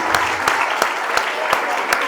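Brief applause at a school award ceremony, with steady clapping that has rhythmic bursts as if many hands are beating in time, close and fairly loud.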